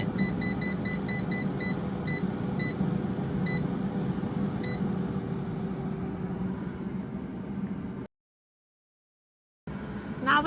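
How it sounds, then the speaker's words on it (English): An air fryer's control panel gives a run of short, high electronic beeps, quick presses at first and then a few spaced ones, over a steady low hum before a brief gap in the sound. "And I will set the temperature to 350 degrees. And I will set the time to 5 minutes."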